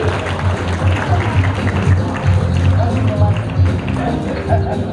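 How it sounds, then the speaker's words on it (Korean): Applause rises from spectators at a trophy ceremony for a women's international handball tournament in Busan, steady crowd clapping with a busy patter under an announcer's amplified voice and general arena murmur. "황현아 부회장님 다시 한번 박수로 맞이해주십시오"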